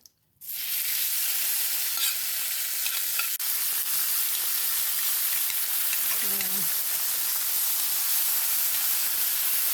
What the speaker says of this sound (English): It's probably going to do some sizzling.